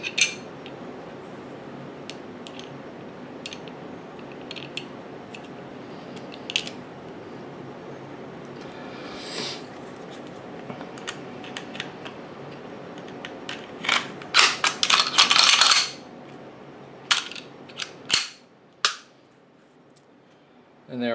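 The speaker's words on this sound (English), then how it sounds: "Last thing I need to do is just final reassembly of the gun." A Glock 36 pistol being put back together after night sight installation: scattered metallic clicks, slide and part handling, with a denser burst of rattling and snapping near the end, close and alone.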